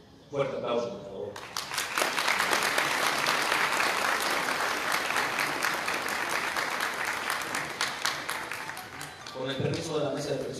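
A large audience claps at a university anniversary ceremony in Zamora, Michoacán, with dense sustained applause filling most of the clip. A voice speaks briefly at the start, and talk resumes at the end as the applause fades.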